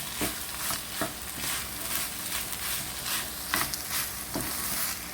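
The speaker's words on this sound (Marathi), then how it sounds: "हांव आतां सॉसेजीस घाता आनी आतां फ्राय कोता" Goan chorisa sausages fry in a pan with a steady broadband sizzle, broken by occasional louder stirring scrapes and clatters, no voices.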